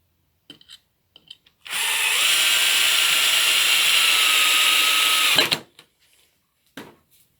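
A power drill drives a long screw into a wooden picnic bench seat in one steady, loud whirring run of about four seconds. Brief handling knocks come before and after it.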